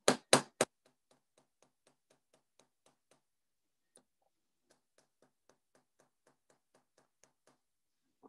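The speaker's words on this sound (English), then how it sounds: "I'm going to take my nylon head pliers because I'm using colored wire, and I'm just going to hammer out my triangle." Nylon head pliers hammer colored craft wire bent into a triangle, three sharp loud knocks at the start followed by many faint, quick ticking taps in a loose rhythm, no talk.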